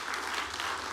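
A church congregation claps for God during a sermon, a dense, steady wash of applause filling the whole second at moderate level with no speech over it.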